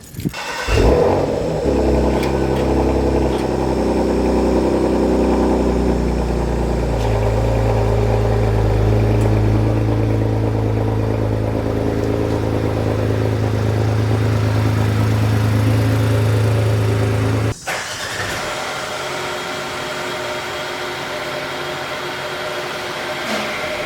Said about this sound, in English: we gotta move the cars out of the garage so we have a little bit of room to work